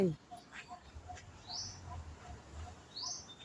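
Birds in a village, crows and orioles among them, give two thin, rising chirps a little apart, faint and distant over a low background murmur.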